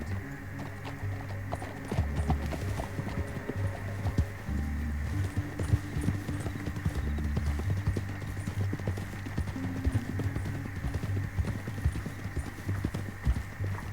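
Steady clip-clop of horse hooves galloping at a quick, even rhythm over a low hum in the video game Red Dead Redemption 2, with no voices.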